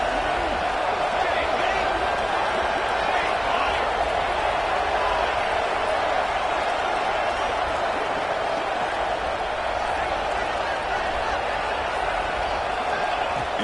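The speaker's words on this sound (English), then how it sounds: "And here comes the noise. This crowd is trying to inspire this defense to make a big red zone stop." Football stadium crowd roaring to rally its defense ahead of a red zone stand, a dense, sustained wall of cheering and noise that holds steady and loud throughout.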